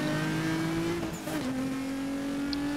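Racing car engines in the video game Need for Speed Most Wanted drone steadily with a brief dip and shift in pitch, like a gear change, under a constant synthetic game-like hum.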